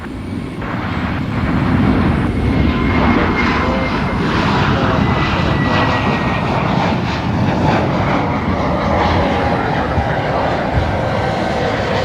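An Air New Zealand aircraft at Brisbane Airport, its jet engines a steady loud roar with a rumbling low end, continuous throughout.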